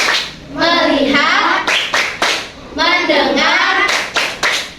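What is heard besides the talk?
rhythmic hand clapping, 'tepuk fokus' classroom clapping game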